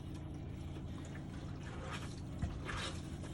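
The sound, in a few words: water draining from open drains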